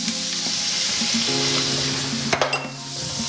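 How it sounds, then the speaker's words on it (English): Chorizo sausage sizzling in oil in a pan for seafood paella, a steady loud fry with a few clinks of a utensil near the end. "in the pan now, I'm going to add my chorizo sausage"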